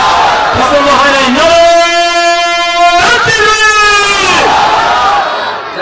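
A large crowd at a sermon gathering chants Allahu Akbar in unison, a loud sustained collective shout repeated twice with a short break between, voices blending into a harmonic roar.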